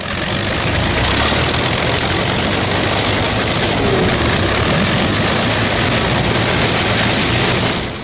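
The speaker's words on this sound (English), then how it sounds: "P-51s are warming up for the longest fighter flight on record." Loud, continuous roar of 1945 P-51 fighter plane engines warming up, a dense droning rumble with no voices over it.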